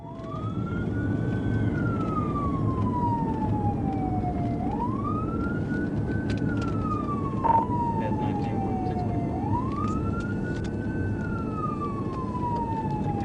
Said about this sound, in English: When Trooper Harper activated his lights and sirens to initiate a traffic stop